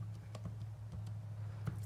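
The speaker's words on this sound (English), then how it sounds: "say I was typing out Mother's Day" Keys on a Brother P-Touch Embellish label maker are pressed one after another, producing soft, quick plastic clicks in an irregular rhythm over a steady low hum.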